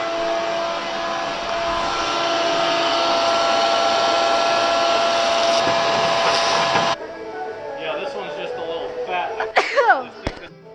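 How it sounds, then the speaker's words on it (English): A vacuum cleaner runs loud and steady for about seven seconds, then cuts off, leaving quieter clatter and a few sharp knocks nearby. "Alright, I'm gonna vacuum a little bit."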